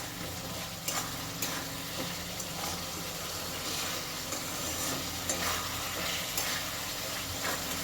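Potatoes fry in hot oil in a pan with a dense, continuous sizzle, while repeated scraping strokes of a spoon stirring them punctuate it every second or so.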